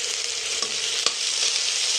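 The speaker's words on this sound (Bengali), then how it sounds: "তো পেঁয়াজটা নেড়ে চেড়ে এইভাবে রাখছি যতক্ষণ না পেঁয়াজটা লাল হয়ে যাচ্ছে" Sliced onions fry in oil in a kadai for a bitter gourd and potato fry, giving a steady, even sizzling hiss. Two soft clicks of a spoon stirring sound near the middle.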